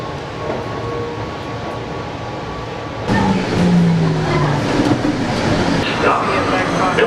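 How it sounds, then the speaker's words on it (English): A commuter train rides toward Penn Station, its steady rumble swelling louder halfway through with rattling carriage noise, while people talk over it. "This is the train to Penn Station"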